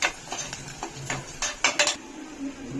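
Small onions and green chillies sautéing in a pan for pepper chicken gravy, with a metal spoon repeatedly clinking and scraping against the pan in quick irregular strokes over a faint frying hiss.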